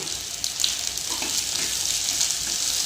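Onions and paneer frying in a hot pan, a steady close sizzle with faint crackles throughout, no talking.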